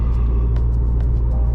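A car cruises along Danish roads on a windy, warm day, its engine and tyres giving a steady, loud low rumble heard from inside the cabin, with faint ticks and clicks now and then.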